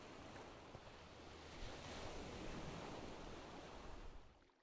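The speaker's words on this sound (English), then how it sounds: "I'm hearing, like, ocean ambiance." A steady wash of ocean surf and wind plays as ambience in a modded Minecraft world, a soft continuous roar that swells slightly and then fades near the end, with no voices.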